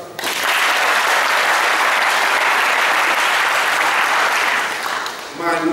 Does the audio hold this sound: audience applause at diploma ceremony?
yes